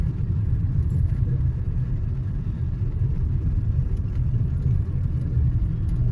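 A car drives along the busy NH44 highway near Murthal with trucks parked alongside, giving a constant low road rumble and engine drone from inside the vehicle, steady throughout with no talk.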